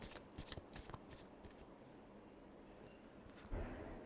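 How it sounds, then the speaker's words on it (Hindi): Tarot cards are shuffled by hand in a few quick riffling bursts, close and fairly quiet, followed by softer card handling and a final flurry. "last shuffle"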